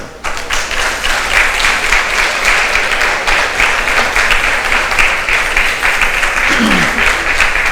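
Sustained applause from a church congregation, steady and dense clapping that fills the space from start to finish, with no talking over it.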